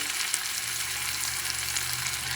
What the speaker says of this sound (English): And you want to sear it, but you don't want this to be completely cooked internally.